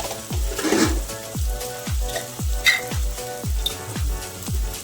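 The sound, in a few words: fish curry spices frying and being stirred in a pan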